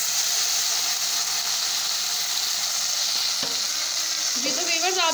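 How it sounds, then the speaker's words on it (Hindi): Ground onion gravy for nargisi kofta sizzles steadily in hot oil, a loud continuous frying hiss with a few stirring scrapes near the end. "अब हम लोगों ने इसको ऑयल के अंदर शामिल कर लिया है, भून रहे हैं।"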